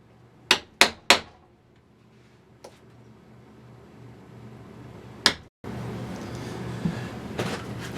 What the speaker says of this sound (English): Then we'll take them over there to the board and we'll punch the hole.